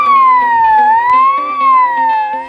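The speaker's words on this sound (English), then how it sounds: "There's even a siren button." Siren tone from the siren button of an Amplivox SW314 Quad Sound Cruiser PA system with four horn speakers, a loud, steady electronic wail that sweeps slowly up and down, with no talk.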